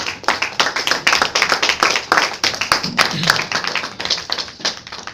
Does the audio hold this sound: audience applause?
yes